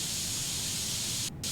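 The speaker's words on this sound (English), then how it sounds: "Like I just sprayed right over the top vent." Continuous hissing spray paint on a PC case in the PC Building Simulator 2 game, a steady close aerosol stream that briefly cuts out near the end.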